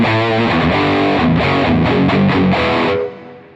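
A Mesa Boogie-style guitar amp module with a scooped V-shaped EQ drives a thick, distorted rhythm guitar part of chugging chords and palm-muted notes, loud and up front, ending on a ringing chord that fades out.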